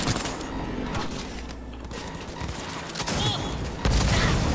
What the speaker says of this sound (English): Cops are shooting you from behind.